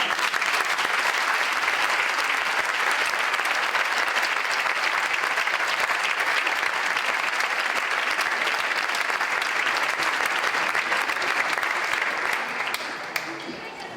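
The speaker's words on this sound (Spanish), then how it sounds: "un aplauso para ellos" A large crowd at a folk music schools gathering applauds singers on stage, the clapping thick, loud and sustained for over ten seconds before tapering slightly at the end.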